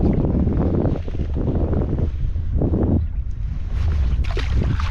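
Wind gusting around a fishing kayak on tidal water, heavy buffeting rumble on the microphone in surges, loud and close with no talk.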